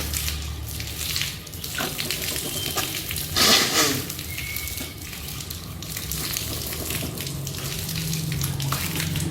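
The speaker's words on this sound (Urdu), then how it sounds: "اب ہم ناک اور منہ میں ایسے پانی چڑھائیں گے۔" Water runs steadily from a tap close by with splashing during wudu ablution, as water is drawn into the mouth and nose, filling the whole stretch with an even wash.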